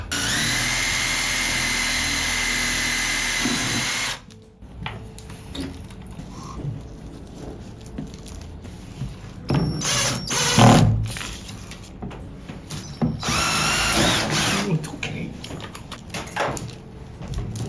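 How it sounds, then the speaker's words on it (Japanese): A power drill drives screws into a wooden garden picture frame outdoors, first a loud steady whir for a few seconds, then intermittent shorter bursts of drilling and clattering handling noise. "だからこれはもう固定しちゃうんでビスで穴開けて"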